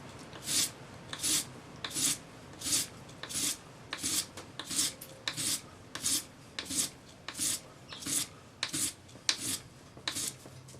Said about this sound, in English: Follow the curve of the ring using your sanding stick.